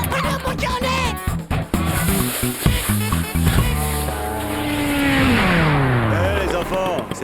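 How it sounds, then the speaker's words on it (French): A cartoon snowmobile engine buzzes and revs, then winds down in a long falling whine, mixed under animated voices talking and background music. "Waouh, une moto des neiges géniale."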